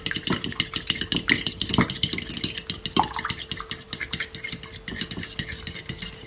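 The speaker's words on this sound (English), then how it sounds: "So you just want to mix your egg all in." A whisk or utensil stirs three eggs and hot pepper sauce in a bowl, with steady clinking and scraping against the sides in a quick repeating rhythm, close and moderately loud, with no talking.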